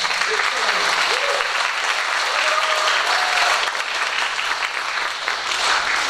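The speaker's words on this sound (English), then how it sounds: "quick give them a round of applause again" An audience at a school district's spring art show applauds the teachers in a sustained, even round of clapping that fills the room, with faint voices mixed in beneath it.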